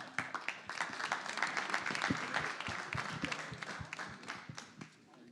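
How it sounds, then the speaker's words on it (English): A room full of people claps and cheers in a dense burst of applause that gradually thins out toward the end. "Let's clap it up."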